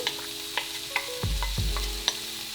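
Browned mushrooms are tipped back into a hot pan and sizzle, with a few clinks of a utensil and a brief low rumble as they land, heard up close without any talking.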